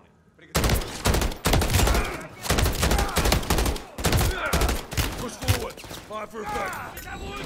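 Dense, loud gunfire from the Modern Warfare 3 campaign mission Trojan Horse, with rapid bursts and repeated shots layered over continuous combat noise and some voices.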